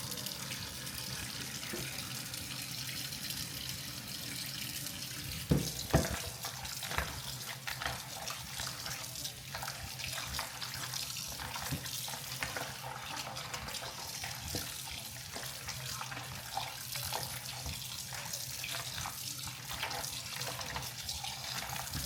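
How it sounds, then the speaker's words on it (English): Tap water runs steadily into a kitchen sink while goat meat is rinsed for curry, a continuous close splashing flow with no talk. "you want to rinse it well until the water"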